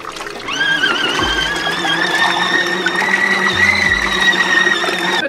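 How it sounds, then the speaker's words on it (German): A small machine whirs and churns steadily with water sloshing inside, a continuous mechanical hum close by with occasional low thumps. "während unsere Waschmaschine hier läuft"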